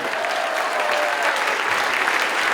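An audience at a school graduation ceremony claps in a dense, steady burst of applause that stays loud and even throughout.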